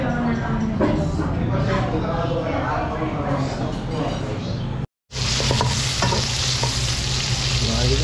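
Pork ribs for adobo sizzle loudly as they are sautéed in a busy eatery kitchen pan, with stirring scrapes over constant frying hiss, a brief cut of silence midway, and voices talking underneath.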